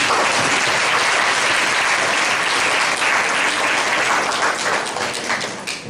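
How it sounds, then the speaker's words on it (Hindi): Loud, sustained applause from a church congregation at a prayer and healing service, steady clapping filling the whole stretch and easing slightly at the end, with no speech over it. "जोरदार ताली बजा दो।"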